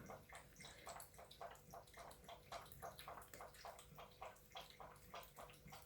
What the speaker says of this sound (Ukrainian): це в мене просто кот п'є воду, так, що ви чуєте